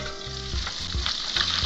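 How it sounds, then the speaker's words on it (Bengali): Small tangra fish fry in hot oil in a small batch, a close, loud, bubbling sizzle with a few quick knocks over a continuous hiss. "মাছটা সম্পূর্ণ দিইনি, কিন্তু অল্প অল্প করে ভেজে নেব"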